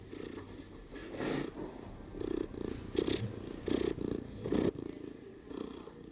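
A cat purrs close up in a home, a rhythmic rumbling purr that swells in regular pulses with each breath, soft but steady and alone without talk.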